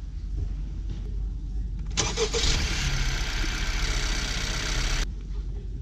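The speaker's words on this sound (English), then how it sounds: "Go start your car." A 2017 Honda CR-V raised at an angle for an oil change cranks briefly and fires up, then settles into a steady idle for about three seconds before shutting off, heard close and moderately loud.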